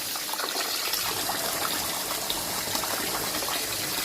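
Cold tap water runs steadily over drained boiled rice, a continuous close splashing gush that holds at an even level without pauses.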